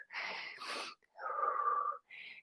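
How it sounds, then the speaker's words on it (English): Heavy breathing during a low-impact yoga and tabata workout, with several loud, close breaths in and out in separate bursts, some with a wheezy, rasping edge, and short pauses between them. "a couple of big breaths in and out"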